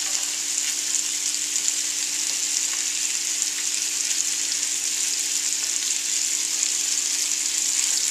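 Steak marinated in olive oil fries with a little butter in a pan, giving a steady, close, even sizzle that hisses without a break and carries no talk.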